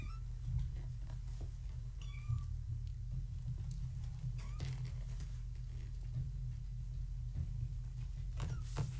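A cat meows a few times, short and close, over a low steady hum and some soft shuffling.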